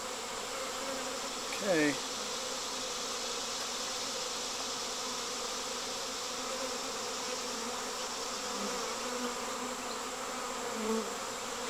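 A honeybee swarm at a hive box makes a steady, close buzzing drone throughout, with a few louder passes of individual bees and one brief spoken word.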